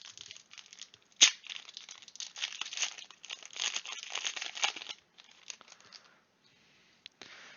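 A Commander Legends card booster pack is torn open and its foil wrapper crinkled, close and crisp, with a sharp rip at the start, steady crumpling, then quieter rustles.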